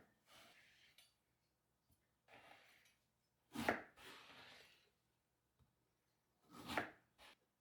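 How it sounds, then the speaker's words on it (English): A knife chops eggplant into fries on a board: quiet, sparse cuts with two sharper, louder chops among softer strokes, close-up and without talking. "next we're going to cut them into fries"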